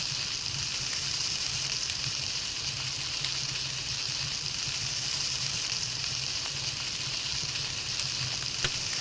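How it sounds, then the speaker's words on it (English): Frying pan sizzle from cooking in the Palworld video game, a steady, close hiss that stays even and continuous throughout with no talking. "It's like I was cooking with the frying pan."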